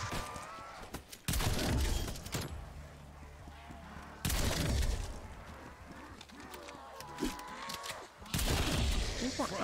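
Call of Duty Zombies gun firing on the Mauer der Toten map in loud bursts separated by quieter stretches, with talk in between.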